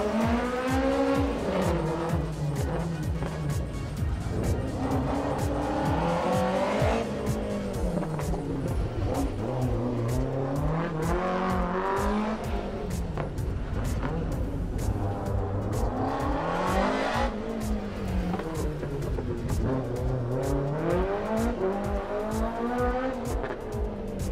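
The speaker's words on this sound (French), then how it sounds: "vous allez pouvoir apprécier tout de suite le spectacle avec la troisième voiture qui est en piste" Rally cars at speed on the Champéry special stage of the Rallye du Chablais 2022, engines rising and falling continuously through gear changes with repeated tire squeal, loud and close for the whole stretch.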